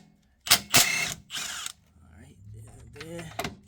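A half-inch impact wrench, fitted with a 3/8 silver deep socket and extension, works on front sway bar bolts of an Infiniti G37 sedan. It gives several short, loud whirring bursts close by.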